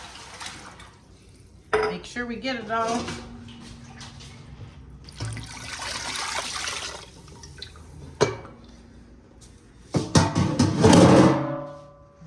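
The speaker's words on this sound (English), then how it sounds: "going to put a little bit of water in there" Water splashes and rushes into a metal pot in several bursts, with clinks of cookware and a person speaking briefly in between.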